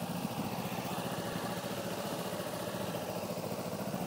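A 2009 Kawasaki Ninja 250R sits idling nearby, its small engine giving a steady, even, low burble with a faint buzzy vibration and no change in revs throughout.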